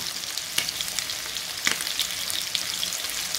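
Côte de bœuf searing in a hot pan with a little fat, giving a close, continuous crackling sizzle broken by a few sharper spits and pops.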